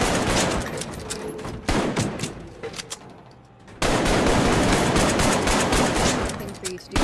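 Rapid bursts of gunfire from weapons in the VR video game Arktika.1, loud and dense, with a short lull in the middle before the shooting resumes at full intensity.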